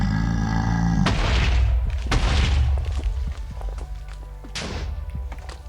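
Mortars fire in the Twilight Forest mod of Minecraft, with several deep, loud booms and thuds going off in irregular succession over a rumbling game background.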